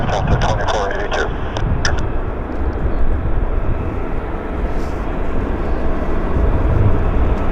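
A Delta airliner lands on runway 08 left at Vancouver airport: a steady, loud, broad jet roar that fills the whole stretch, with faint voices in the background.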